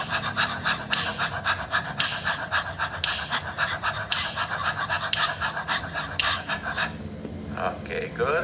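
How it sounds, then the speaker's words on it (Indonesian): Rapid diaphragm breathing for a vocal warm-up: quick, forceful panting breaths in a fast, even rhythm, loud and close, with no speech over them. "dilakukan itu adalah latihan pernafasan ya, diafragma namanya ya"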